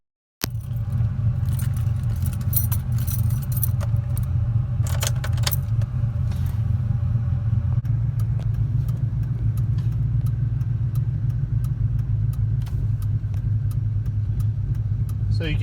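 Car with a newly fitted tailpipe heard from inside while driving, a steady low engine drone and road rumble with some light rattling and jingling over it.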